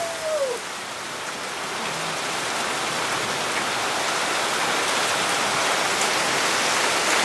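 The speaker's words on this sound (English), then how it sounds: "Pretty much having a monsoon here, a mini monsoon." Heavy rain pours steadily and loudly throughout, a dense unbroken hiss of drops hitting surfaces outdoors during a cycling trip, with a brief faint tone at the very start.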